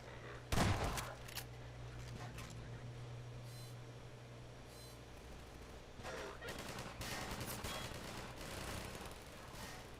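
Turrets fire in Half-Life 2: a sharp loud burst near the start gives way to scattered rapid gunfire crackles through the rest, over a low steady hum and distant game noise.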